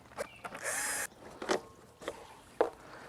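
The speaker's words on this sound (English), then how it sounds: "We have an electric screwdriver." An electric screwdriver backs out the screws on a pool sand filter's valve collar, with a faint short whirring burst followed by a few soft clicks and taps at close range.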